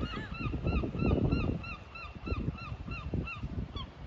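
Seabirds calling from coastal rocks on the Scottish shore at Portknockie, a repeated series of honking, goose-like cries in steady rhythm over a rumbling wind-and-surf background.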